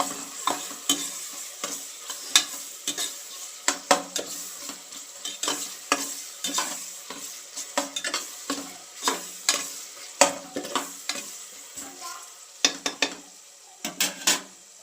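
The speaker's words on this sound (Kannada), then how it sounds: "ಎಣ್ಣೆ ಹಾಕಿತ್ತು ಉಳ್ಳಾಗಡ್ಡಿ ಮೆಣಸಿನ್ಕಾಯಿ ಹಾಕಿ ಫ್ರೈ ಮಾಡ್ಕೊಳಕತ್ತೀನಿ" Onion and green chillies frying in oil, stirred with repeated sharp metal scrapes and clinks against the pot over a continuous sizzle, close and fairly loud with no talking.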